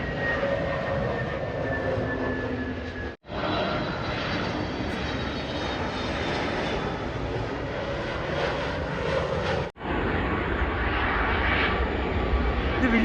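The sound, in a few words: IndiGo airplane flying past near Bengaluru airport railway station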